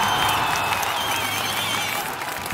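Game applause from a crowd in the city-building game Cities: Skylines, steady dense clapping and cheering holding at the same loud level for about two and a half seconds, with no talking over it.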